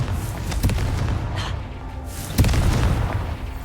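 Confringo fire spell in Hogwarts Legacy: a booming blast with rumbling low roar, followed by another sharp impact a couple of seconds later, loud and close with no talking.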